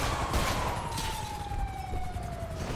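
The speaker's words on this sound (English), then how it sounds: "Shots fired!" Gunfire in GTA 5 roleplay, a dense burst of shots heard amid constant loud game noise with a siren-like tone sweeping down underneath.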